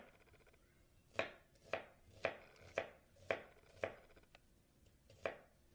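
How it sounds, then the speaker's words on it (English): Onions being chopped on a board, about eight sharp knife strikes in a steady, slightly uneven rhythm, close and clear with no talking. "We're going to watch him chop the onions"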